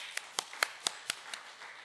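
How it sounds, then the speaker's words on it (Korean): Six or seven sharp, evenly spaced hand claps sound faintly in a quiet room, each a crisp separate snap at a brisk steady pace. "우리 박수 한번 부탁드리겠습니다."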